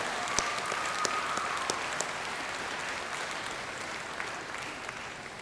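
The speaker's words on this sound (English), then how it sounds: "let's give your family a round of applause" Applause from a large crowd at a community college commencement ceremony, a steady dense wash of clapping that holds evenly at moderate distance throughout, with no talking over it.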